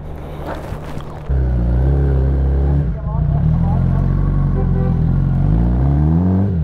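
A motorbike engine, apparently a newly bought hyper e-bike at the start of a short ride, sets up a steady loud rumble after a quieter opening, with a brief dip before it holds its note again. No one speaks.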